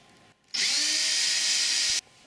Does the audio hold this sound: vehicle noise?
no